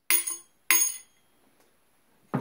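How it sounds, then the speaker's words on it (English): A 3-pound hammer taps the back of a pinned AR15 front sight base three times, sharp close metallic strikes with brief ringing, the last one duller. "I took this 3-pound hammer and just tapped the back of the front sight base"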